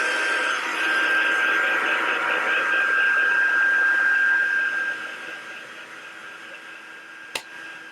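A hair dryer blows steadily over a wet watercolour painting, a loud even whirring hiss with a faint high whine that drops to a softer level partway through, followed by a single sharp click near the end.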